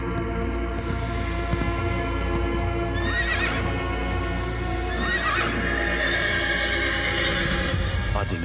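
A horse whinnies twice in a Hindi film scene, high neighs rising over a steady bed of music and hoof clip-clop, loud and close throughout.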